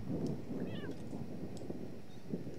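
A cat in The Sims 3 Supernatural gives a short, faint meow, then a couple of softer mews, over a low, busy game background.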